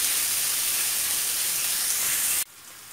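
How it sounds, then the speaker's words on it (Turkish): Minced meat frying in a pan gives a loud, steady hiss and sizzle for over two seconds, then cuts off abruptly to near quiet. "Kıymamız vardı. Onu da koyuyoruz hemen. Bunu biraz kavuracağız."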